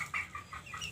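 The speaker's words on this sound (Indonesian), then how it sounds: "Dan seperti biasa ini 2 anakan ayam saya juga." Young chickens cluck softly in a short burst of a few quick, close calls over a low background hum.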